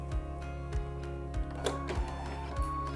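A computerized embroidery machine stitching out simple shapes and fills in a hooped design, a low steady motor hum with soft regular thumps of the needle about every half second, close and alone.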